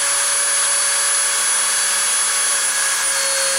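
A milling machine spindle spins at 30,000 RPM, giving a steady, loud high-pitched whine with a constant tone throughout and no voices.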